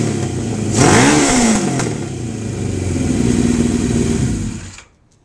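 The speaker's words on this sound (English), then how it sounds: "So you will now see the bike and hear the bike run." A 1979 Suzuki GS1000 motorcycle engine cranks, catches and revs once with a rising and falling howl, then settles into a steady, loud idle before cutting out abruptly near the end.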